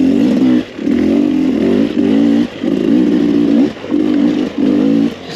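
A 2021 Beta 300rr dirt bike engine revs loud and close, with repeated throttle blips that rise and hold, broken by short dips between bursts.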